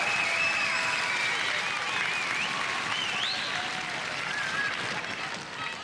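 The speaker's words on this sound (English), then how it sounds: "I think a round of applause for Dean." A TV studio audience claps and cheers for contestant Dean on a 1992 Gladiators show, a full, sustained burst of crowd applause with whistles and shouts mixed in.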